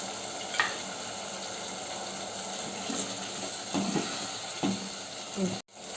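A pot of chicken curry boiling with a steady hissing, bubbling sizzle, a few soft clinks, and an abrupt cut near the end.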